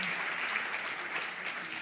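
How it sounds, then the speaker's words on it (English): An audience claps for a speaker at a women-in-sport dialogue event, with brief, steady applause at moderate loudness throughout. "Let's give her a round of applause."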